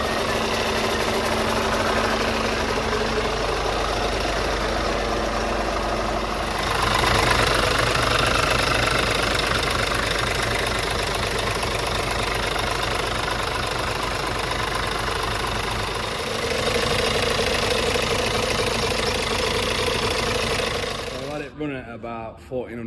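A rebuilt Scania truck engine runs at a steady fast idle of about 1400 RPM, up to temperature, with a constant close diesel drone and rattle, slight level shifts partway through, and a brief clatter at the end.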